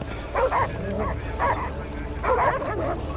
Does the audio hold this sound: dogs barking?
yes